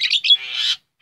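Javan myna (jalak kebo) kept for breeding gives a close, loud burst of squeaky chirps and a short rasping call over about a second, then a faint chirp after a brief silence.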